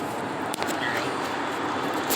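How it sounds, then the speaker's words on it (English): The AC blower inside a 2001 Chevy Malibu rushes as a steady, even whoosh while the car drives, a constant moderate hiss with faint road rumble and no talk. "You're probably just hearing the blower from the AC."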